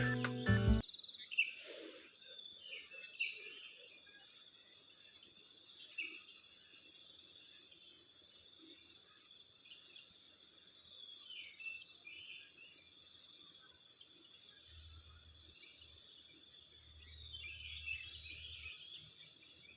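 Crickets and birds chirp along a walking route, a steady high insect trill running throughout with scattered bird calls, fairly distant and calm, and a faint low rumble near the end.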